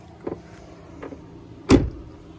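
Power controls on a 2006 Ford F250 XLT Sport 4x4 pickup operate from inside the cab, producing two faint short clicks followed by a louder, close thump, all within a couple of seconds in a quiet setting.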